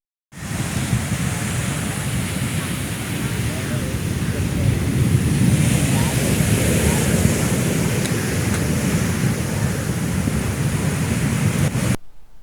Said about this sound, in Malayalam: മണൽ ചാക്കുകൾ തകർത്താണ് തീരത്തേക്ക് കടൽ കയറുന്നത്